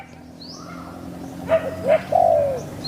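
A few soft cooing notes from a spotted dove rise over a quiet background hum, three short calls close together near the end.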